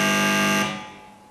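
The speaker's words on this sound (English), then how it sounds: "Here's the sound of the doorbell, amplified through an amp." A doorbell amplified through a guitar amp in a flat converted into a gallery in Brixton, part of a Martin Creed artwork, rings as a loud, sustained buzzing electric tone that cuts off and decays away.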